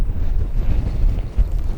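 Strong wind gusts across open snow, roaring and buffeting the microphone loudly and continuously with low rumbling bursts, no voices heard.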